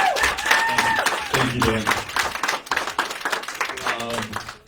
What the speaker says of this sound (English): please give your head coach a massive round of applause